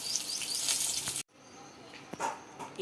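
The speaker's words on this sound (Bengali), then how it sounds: "কড়াইতে তেল দিয়ে মাছগুলো ভেজে নেওয়া হচ্ছে।" Rohu fish pieces frying in hot oil in a wok, a bright steady sizzle that cuts off abruptly and returns softer, with a few clinks of a utensil and no talking.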